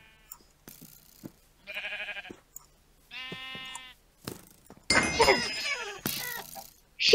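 Sheep in Minecraft on the Mineplex server bleat in a few short wavering calls mixed with clicks and game effects, followed by a burst of louder overlapping noise.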